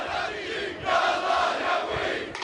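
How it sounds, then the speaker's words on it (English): A crowd of protesters shouts together in a dense, loud roar of many voices that swells and surges, heard up close outdoors. "the Al Jazeera crew is warming up the crowd in time for their next live report"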